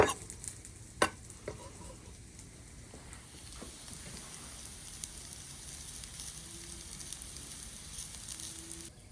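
Breakfast food, including hash browns, fries on a Blackstone griddle with a soft, continuous sizzle. A few quiet scrapes and taps from stirring come through near the start.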